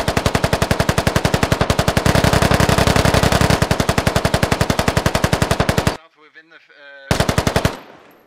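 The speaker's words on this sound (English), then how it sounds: "Alright, so that's some cover fire as Leaf runs away" Automatic gunfire in the military shooter Squad comes as long, loud, rapid bursts of machine-gun fire, then a brief gap with a faint ringing tone and one last short burst that fades out.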